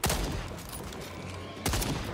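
Rapid bursts of automatic gunfire aimed at a T-Rex in the video game Second Extinction, a loud volley at the start and another near the end, with steady shooting noise in between.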